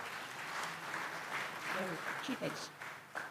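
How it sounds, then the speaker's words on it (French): Applause rises from the audience at an award ceremony for padel grand prix laureates, a soft, distant patter of clapping running under someone speaking over a sound system. "Et je voudrais que vous les applaudissiez très très fort ce soir."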